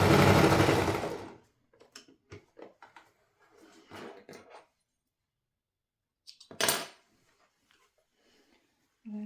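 A sewing machine stitches a kitchen scarf in one loud, dense burst of stitching at the start, then stops and leaves scattered light clicks and handling noises around a quiet workspace.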